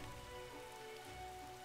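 Steady rainfall from the freezing rain weather in the Age of the Ring custom Helm's Deep siege map, a continuous hissing patter at even loudness, with no voices.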